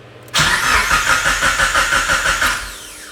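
A Mitsubishi Evo fitted with a Haltech engine management system cranks briefly and fires, settling into a loud, pulsing idle close by, with no talking.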